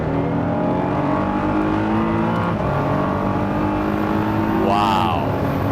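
Praga Bohema hypercar accelerating hard on a track, a loud sustained engine roar with rising harmonic pitch, steady and close, with a brief higher whine near the end.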